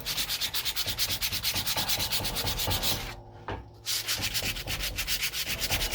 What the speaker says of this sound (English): after I sanded it down, and yeah, it took some elbow grease